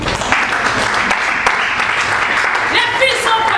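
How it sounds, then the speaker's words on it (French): A church congregation claps loudly and steadily for several seconds during a worship service, a dense wash of applause with voices mixed in. "Applaudissons très fort pour le Seigneur."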